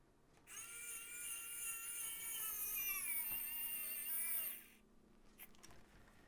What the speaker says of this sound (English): So I'm going to put these in with my wow stick.